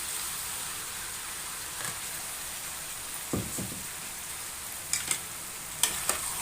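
Ground masala frying in hot oil for a South Indian chicken gravy, giving a soft, steady sizzling hiss with a few light clinks and scrapes of stirring near the end, no voices.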